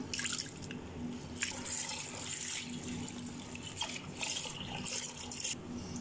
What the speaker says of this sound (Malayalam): നമ്മുടെ ഉഴുന്നും ഉലുവായും എല്ലാം നമുക്ക് ഈ വെള്ളത്തിലൊന്ന് നല്ലപോലെ ഒന്ന് കഴുകിയെടുക്കാം